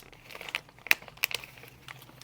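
A stapled-shut plastic bag crinkles and crackles as it is handled and opened, several sharp close crinkles among softer rustling, with no voices.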